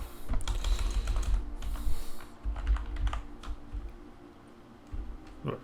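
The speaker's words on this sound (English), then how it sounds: "I can just use my keyboard for this, can I not?" Rapid keystrokes on a computer keyboard, close and clear, in uneven bursts with brief pauses, entering a short code with no talking.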